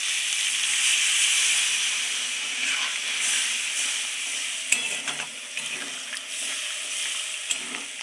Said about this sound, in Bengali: সেই জলটাই আমি দিয়ে দেবো।